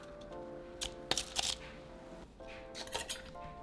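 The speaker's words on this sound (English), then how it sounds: "We're going to give it a quick mix." A spoon stirring mango mixture and shaved ice in a cup for a mango loco raspado, giving a few quick scraping, clinking strokes against the cup, close and fairly quiet, with short pauses between.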